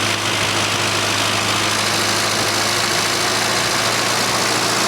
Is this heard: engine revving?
yes